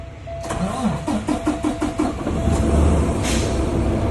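A Kenworth truck's diesel engine cranks with a rhythmic chugging of the starter for about two seconds, then catches and settles into a loud, rough idle with a hiss of air.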